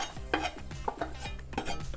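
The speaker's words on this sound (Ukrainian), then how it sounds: "і ложкою перемішуємо" A spoon stirs a thick filling of mushrooms, garlic and herbs in a bowl, scraping and clinking in quick, uneven strokes, close by with no talking.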